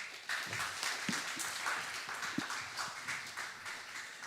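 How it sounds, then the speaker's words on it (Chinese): Soft, distant applause from a church congregation welcoming the next speaker during a Sunday service, a brief, even patter of clapping that stays fairly faint. "那我们接下来还是热烈的掌声欢迎永恩"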